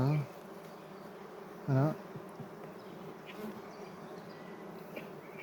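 Honeybees from a young swarm hum steadily at an opened hive as a hive tool lifts the frames, with a couple of louder close passes of individual bees standing out from the constant buzz.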